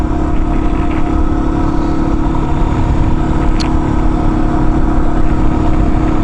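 A small Yamaha XT250 motorcycle engine running steadily, a loud continuous drone with no clear changes in pace, heard close and alone without talk.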